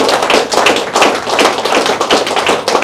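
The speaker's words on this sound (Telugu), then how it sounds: "give the big claps" An audience claps for a graduate receiving a certificate at a numerology and yoga mudra class, loud sustained applause with many hands at close range and no voices.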